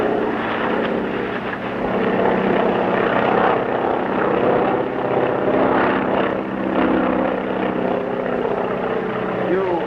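A propeller plane carrying two men drones steadily overhead, a loud continuous engine roar in a film serial scene, with a faint voice briefly under it.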